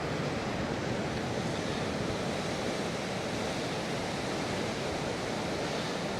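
Ocean waves crash onto jagged rocks near a small sandbar along a rugged coast. The surf makes a continuous, loud wash of noise with no pauses between breakers, and wind blows across the microphone throughout.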